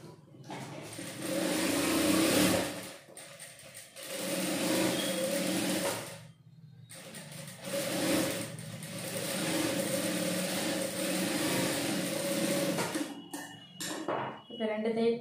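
A tailoring sewing machine stitches a sleeve seam in several runs of a few seconds each, separated by brief pauses, with a close, whirring rhythm and light handling clatter near the end.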